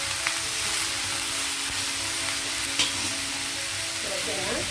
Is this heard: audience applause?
no